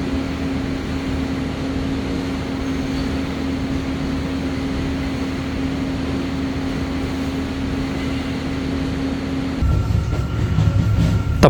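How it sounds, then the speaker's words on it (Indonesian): The KA Rajabasa passenger train pulls away from the station at 8:30 in the morning. A steady mechanical rumble with a constant droning hum carries on, then shifts abruptly to a rougher, louder rattle near the end; no voices. "kereta mulai diberangkatkan"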